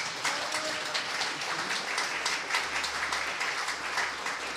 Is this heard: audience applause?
yes